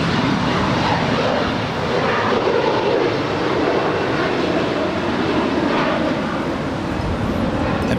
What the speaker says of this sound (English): that was obviously a flight coming in from Sydney, Australia